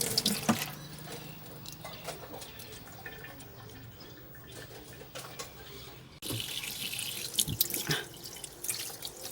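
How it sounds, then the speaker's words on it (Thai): Tilapia for tom yum is rinsed under a running kitchen tap, with water streaming and splashing steadily at close range. The flow surges louder toward the end. "ต่อไปเราก็มาล้าง แป้งมันออกเนาะ ล้างให้สะอาดเลยค่ะ"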